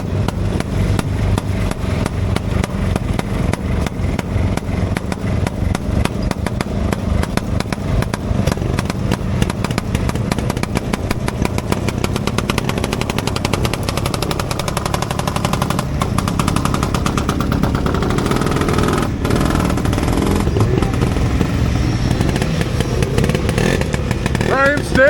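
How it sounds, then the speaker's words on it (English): Vintage fiberglass Scorpion snowmobile engine revving loud and continuous as it rides away at a vintage snowmobile ride-in, a rough two-stroke rasp with steady crackle throughout and voices faintly mixed in. "Ryan's going to ride a fiberglass Scorpion away for us."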